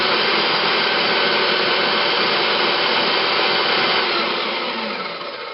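Bosch PBD 40 drill press, 710 W, spinning at top speed of about 2500 rpm in second gear, a loud steady whining roar that holds constant and then begins to fade, no speech.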